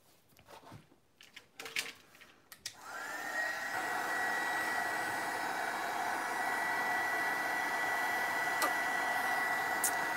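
A hair dryer switches on to dry a painted altered craft horse decorated with mica powders, blowing as a steady, loud whir after a few seconds of faint handling noises.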